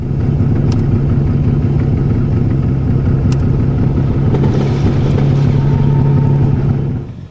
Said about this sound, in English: Listen closely and you'll hear that the engine note is cleaner on this pass.